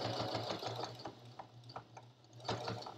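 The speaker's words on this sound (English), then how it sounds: "make sure that I sew it shut so my raw edges don't come out" A sewing machine stitches a fabric bowl cozy closed in quick bursts of rapid whirring, pausing briefly between runs, with small clicks in the gaps and no talking.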